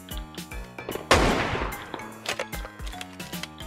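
Gunfire in the battle royale game PUBG: a sharp loud shot bursts out, trailing into a rolling echo, amid scattered quieter shots and clicks of in-game action.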